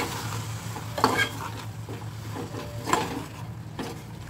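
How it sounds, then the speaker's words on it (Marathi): A spoon stirs a spiced birda bean mixture in a pan, giving a low sizzle with a couple of distinct metallic clinks and scrapes, close by, with no voices. "आता सगळं मिक्स करून घेते"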